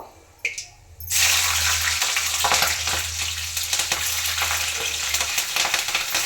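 Green chillies roasting in a hot pan with oil, a sudden loud sizzle bursting in after a brief quiet start, then a steady crackling fry with stirring, close up and without talk.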